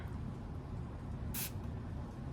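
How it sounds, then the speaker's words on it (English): A brief hiss of water misted from a spray bottle onto matte photo paper inked with distressed oxide inks, a short burst near the middle over steady low background noise. "let's spray a little water"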